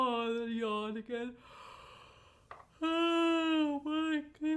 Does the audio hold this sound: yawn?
yes